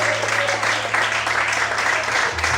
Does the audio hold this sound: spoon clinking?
no